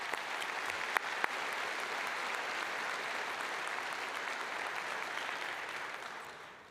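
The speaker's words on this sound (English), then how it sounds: "I think that deserves an applause of gratitude" Steady applause from a large audience at a College of Veterinary Medicine commencement ceremony, a continuous moderately distant wash of clapping with a couple of sharp claps near the start, tapering off at the end.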